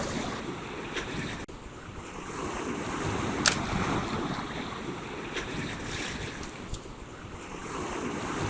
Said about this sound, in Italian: un mare con l'onda lunga, è un mare in scaduta